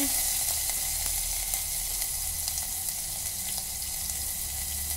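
Onion, tomato, mustard seeds, cumin, ginger-garlic paste, curry leaves and coriander fry in a pan, giving a steady, continuous sizzle at moderate volume with no talking.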